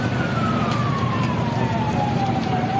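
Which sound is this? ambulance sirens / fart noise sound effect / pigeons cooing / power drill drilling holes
ambulance sirens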